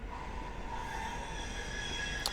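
A Manchester tram, number 3094, approaches along Balloon Street by Victoria in the city, a steady rolling rumble with a faint metallic squeal near the end, fairly loud and close, with no voices.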